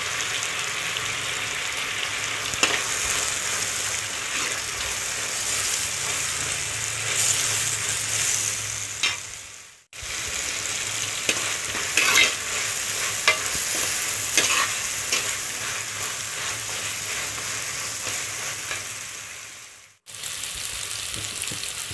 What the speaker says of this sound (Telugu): చిల్లీ పౌడర్ ఒక టీ స్పూన్ వేస్తున్నాను గరం మసాలా ఒక టీ స్పూన్ ధనియా పౌడర్ ఒక టీ స్పూన్ వేసుకొని బాగా మిక్స్ చేసుకోవాలి